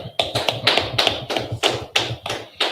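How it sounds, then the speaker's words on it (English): Rhythmic clapping in a class setting in Fayetteville, North Carolina, with sharp, evenly spaced claps about three per second, close and fairly loud, carrying on steadily with no talk. "Well, all right, clap it up."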